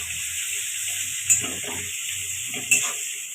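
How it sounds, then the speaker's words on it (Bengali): Chopped onions sizzle in hot oil with a steady, bright, close hiss, and a spatula clinks against the pan twice. "ওই তেলেই পেঁয়াজ কুচি দিয়ে দিলাম।"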